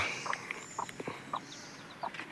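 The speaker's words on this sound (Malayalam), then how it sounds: "അപ്പോൾ നമ്മുടെ കോഴിക്കുഞ്ഞുങ്ങൾ ഇതാട്ടോ" Soft high peeping from chicks with an occasional low cluck from the mother hen, scattered short calls close by.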